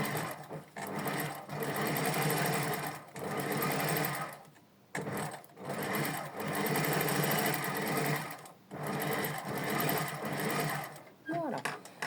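A sewing machine stitches a seam in a sewing class, running in long loud bursts of rapid rhythmic clatter separated by brief pauses, heard close up with a voice briefly audible near the end.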